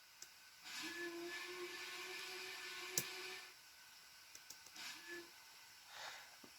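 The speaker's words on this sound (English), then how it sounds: "this is what she sounds like when she blows a whistle" A video game steam locomotive whistle blows one long, steady blast over a background hiss, then a second shorter toot follows after a pause.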